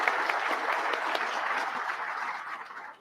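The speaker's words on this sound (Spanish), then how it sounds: "Fuertes los aplausos para Sergio" Warm, steady applause from a conference audience welcoming a speaker at a congress on teacher training, a dense blend of many clapping hands that holds evenly and then tapers off at the end.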